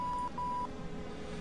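The call button in an Airbus A318 flight simulator sounds two clear, evenly pitched electronic beeps in quick succession, faint over a low steady hum, followed by quiet.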